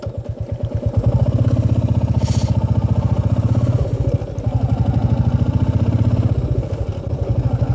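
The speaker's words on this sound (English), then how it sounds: "The engine does feel a bit strained, shuddering." A Royal Enfield Meteor 350 motorcycle lugs in 4th gear just under 30 km/h, its engine thumping close and loud in a rapid, uneven pulse that shudders and strains throughout.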